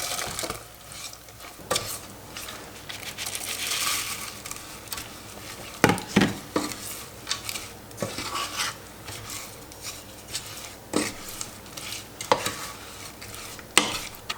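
Almonds are stirred into butter and sugar in a pan for an almond sheet cake, giving a gentle sizzle with repeated scraping and clicking from a spoon against the pan, close and without speech.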